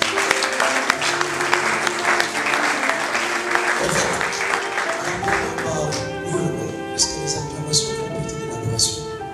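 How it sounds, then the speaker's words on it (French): A church congregation applauds, loud continuous clapping with a sustained musical tone and a voice rising beneath it in the second half. "Est-ce que nous pouvons acclamer encore?"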